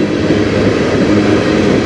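A CN manifest freight train with hoppers, tankers and auto racks rolls past on the Strathroy Subdivision, a loud, steady, close rumble of wheels and cars with no talking.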